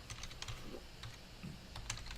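Quick bursts of typing on a computer keyboard, soft close key clicks in an uneven rhythm while an email address is entered, faint and without speech.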